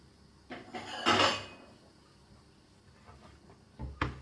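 Dishes and a garlic crusher clatter on a kitchen counter while broad beans and garlic are prepared, with a loud burst of clinking near the start, a quieter lull, then a sharp knock at the end.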